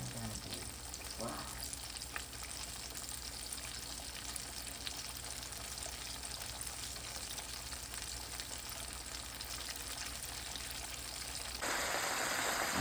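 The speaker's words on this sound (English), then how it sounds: "we have 8 minutes of frying." Lemon pepper chicken drumsticks fry in hot oil, giving a continuous, even crackling sizzle that holds steady throughout, with a brief louder burst near the end.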